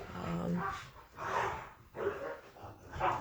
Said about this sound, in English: Okay, and I could get upset about the dogs.